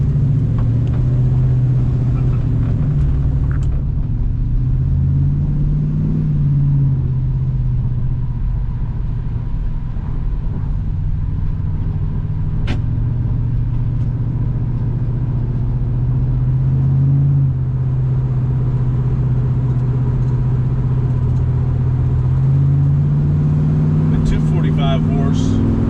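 A 1973 Chevrolet Camaro Z28's V8 engine with exhaust headers idles with a deep, steady, throaty rumble from the exhaust, loud and close, with occasional small swells in pitch.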